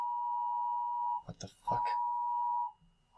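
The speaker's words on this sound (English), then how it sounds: "my phone's going off. It's actually an alert message" A phone emergency alert tone blares as a steady, loud, sustained beep, cut off briefly by a startled spoken exclamation before the tone resumes.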